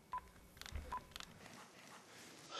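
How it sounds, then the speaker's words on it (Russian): Telephone dialing in a quiet room, a few short separate tones a beat apart, faint and without talk. "Я позвоню, а Лисицын съездит."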